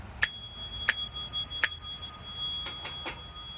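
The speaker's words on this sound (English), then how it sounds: "Oh, my little Tibetan bell." A small Tibetan bell is struck three times at an even pace, each strike ringing bright and clear with a lingering tone, then a few softer, shorter chimes follow as it settles, close and alone in a quiet room.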